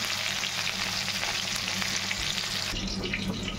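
Tomato stirred in a frying pan of hot oil during cooking of a mustard fish dish, a steady close sizzle with scraping stir strokes throughout, no voices.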